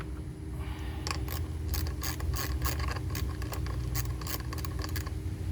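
A ratchet wrench backing out 3/8 bolts from the fuel pump of a Craftsman DYT 4000 riding lawnmower, a steady string of close, quick clicking strokes over a low hum, no speech.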